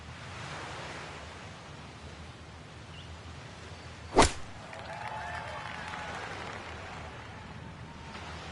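Golf club swing and strike in the EA PGA Tour video game at Torrey Pines, a single sharp whoosh-crack standing out loudly and briefly over steady windy background noise.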